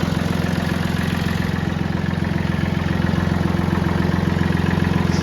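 A tractor engine idles close by with a loud, steady low throb and a fast, even pulse of firing strokes that runs throughout without talk.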